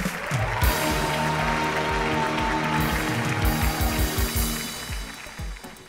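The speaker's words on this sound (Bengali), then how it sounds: "ওকে, এবার ঘুরেন, একটা জোরে হাততালি হোক" A comedy show studio audience claps loudly and continuously, the dense clatter holding steady throughout over faint background music.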